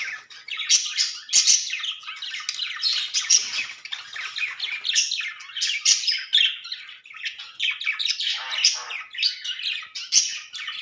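A myna bird chirps and squawks busily while bathing at night, its bright, overlapping calls coming close and steady throughout with no other sounds.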